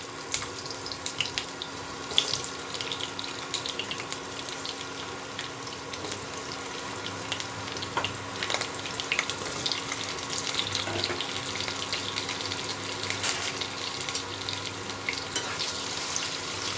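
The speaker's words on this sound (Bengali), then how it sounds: "প্রথমে আমি লম্বা করে কেটে রাখা আলুটা দিয়ে দেবো।" Long potato strips fry in oil with black cumin, a steady broadband sizzle and hiss running unbroken and fairly even throughout, with no talking.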